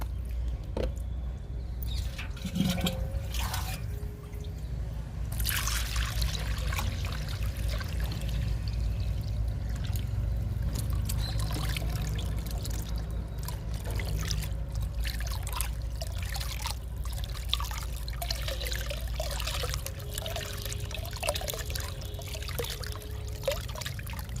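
Liquid plant fertilizer pours and trickles steadily from a mug for a long stretch, close up, with small splashes and no speech.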